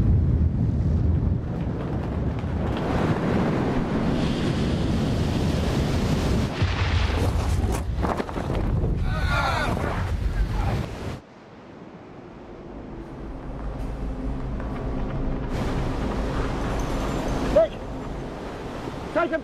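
Storm waves and gale-force wind batter a sailing yacht in the 1979 Fastnet race, a constant roaring rush with heavy crashes of water and wind buffeting the microphone, then a calmer stretch with a lower rumble.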